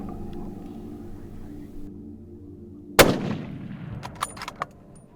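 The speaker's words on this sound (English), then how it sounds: "Shoot him right behind the shoulder." A hunting rifle fires one sharp, loud shot at plains game in Namibia, cutting through a low steady hum. The shot's echo rolls away, followed by a few faint scattered knocks.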